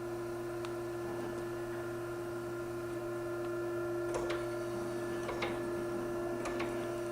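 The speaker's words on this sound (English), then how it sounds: "now we'll start a surface grinding program where we only feed when the saddle reverses" An Okamoto 12x24 DX high-precision surface grinder runs a grinding program with a steady tonal hum and whine, overlaid by occasional faint ticks and clicks as the saddle moves and reverses.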